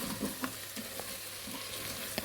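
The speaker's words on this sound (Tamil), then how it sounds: "மட்டன் சேர்த்துட்டு நல்லா வெங்காயம் தக்காளியோடு நல்லா மிக்ஸ் பண்ணி விட்டுக்குவோம்." Boiled mutton with onion and tomato is stirred in a sizzling pan, a soft frying hiss with a few scraping spoon strokes, close and moderately quiet.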